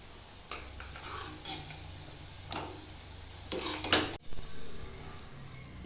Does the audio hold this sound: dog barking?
no